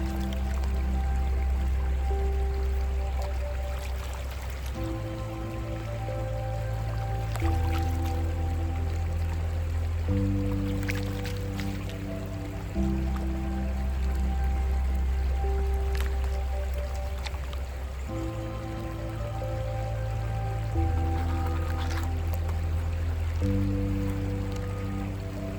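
A Colorado creek flows steadily during gold panning, a continuous watery rush heard alongside sustained background music with slowly changing chords.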